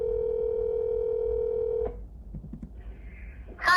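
A steady telephone dial tone sounds for nearly two seconds, then a quick run of dialing tones follows, close and clear.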